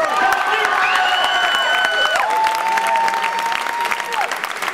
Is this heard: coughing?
no